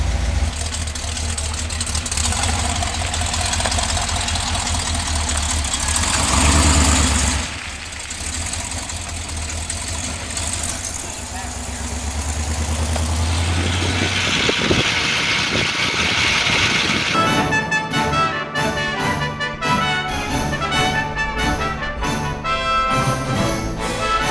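A Jeep Commando on an off-road trail in Michigan's Upper Peninsula, its engine running rough and steady with a deep rumble, dipping briefly midway and then turning choppier and louder toward the end.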